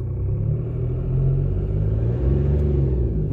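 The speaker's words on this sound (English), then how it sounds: "as soon as you raise the revs about 2000" A 1.4 TDI diesel car engine, the battery not charging at start-up, held at raised revs around 2000 rpm, giving a steady, loud, close rumbling drone with no talk.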